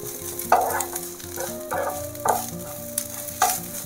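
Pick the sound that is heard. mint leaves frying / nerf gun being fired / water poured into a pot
mint leaves frying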